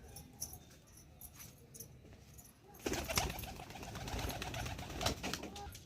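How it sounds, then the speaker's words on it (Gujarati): Pigeons coo softly at their newly built coop, faint intermittent calls over quiet background, with louder rustling and movement in the second half. "આપણા નવું બનાવ્યું તેમાં કબૂતર ખાવા પણ માંડ્યા છે"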